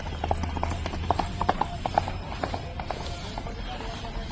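Horse hooves clip-clopping at a horse fair in Akluj: a quick run of sharp, fairly close hoofbeats in irregular clusters over a low, steady background hum, with no clear talking.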